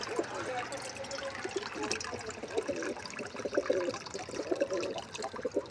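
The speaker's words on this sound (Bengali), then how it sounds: "ভালো করে ধোয়ার পর পানি ভরে নিচ্ছিলাম যেন পায়রারা ভালো পানি খেতে পারে।" Water runs and trickles into a freshly washed bowl being filled as drinking water for pigeons, a quiet, uneven splashing stream with faint background voices.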